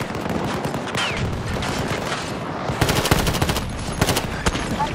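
Rapid automatic bursts from an XM machine gun in the shooter game Battlefield 2042, loud and close amid ongoing battle noise, with sharper rattling volleys in the second half.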